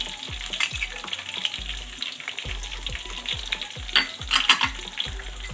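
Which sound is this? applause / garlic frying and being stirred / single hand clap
garlic frying and being stirred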